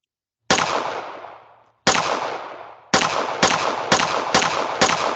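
Gunfire in a first-person shooter built in Unity, heard as single sharp shots with decaying tails, first spaced apart and then in a quicker irregular burst of five, loud and close with no talk.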